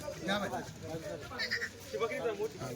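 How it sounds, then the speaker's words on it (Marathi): Several Kathiawari goats bleat nearby, overlapping and wavering, mixed with a voice talking close by. "आता याच्यात बघा या शेळ्या"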